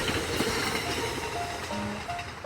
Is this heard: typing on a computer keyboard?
no